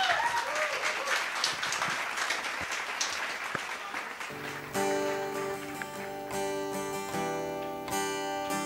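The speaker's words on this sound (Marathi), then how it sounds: "जोरदार टाळ्या दोघांसाठी." Loud applause and clapping from an audience at a Marathi stage show, greeting two performers, dense and sustained for several seconds before music with steady tones takes over.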